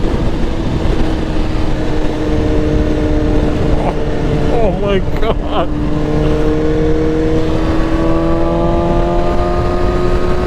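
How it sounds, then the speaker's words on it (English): A Nissan Skyline R34 GTR revs and drives past, its engine note holding steady then rising and falling as it goes by, with a voice exclaiming over the top and steady background roar throughout. "A Nissan fucking Skyline R34 GTR."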